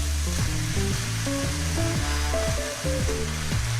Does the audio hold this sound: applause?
no